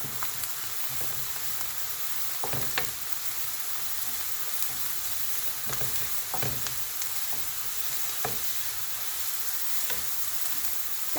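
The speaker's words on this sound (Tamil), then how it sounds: "இப்போ இதை நாம் நல்லா சாட் பண்ணிடலாம், கொஞ்சம் ஹை ஃப்ளேமில் வச்சு" Chickpea masala with coconut sautés in a pan over a high flame, a steady close sizzle and crackle with occasional sharp spoon-scraping ticks as it is stirred, no voices.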